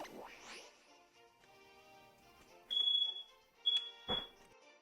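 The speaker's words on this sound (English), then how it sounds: "Smoke alarm again." A smoke alarm beeps inside a Pokémon X game, giving a few high electronic tones over soft game music, with brief louder bursts near the end.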